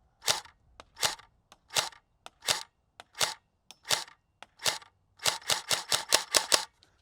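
Airsoft rifle fires a series of sharp snapping shots at a target, spaced singly at first and then a fast cluster of six at the end, close and crisp.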